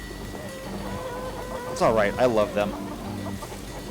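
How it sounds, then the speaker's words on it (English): Chickens in the game Endzone cluck in a short burst of several squawky notes over a quiet background with a steady hum, while a person speaks briefly. "And the chickens are so noisy."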